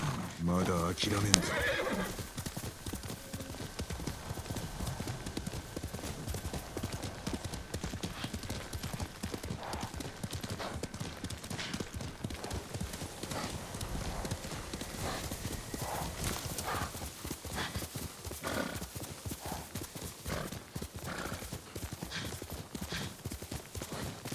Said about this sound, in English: Let's go, horse.